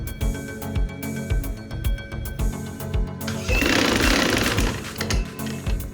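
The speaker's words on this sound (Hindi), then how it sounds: "इसकी सिलाई इस तरह करके लगानी है।" Sewing machine stitching a baby girl's umbrella frock, a loud close mechanical rattle pulsing in short bursts and then running steadily, with no talking.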